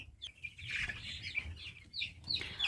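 Faint high-pitched peeping and soft clucking from a group of chicks, scattered calls overlapping in quick bursts, quiet and continuous.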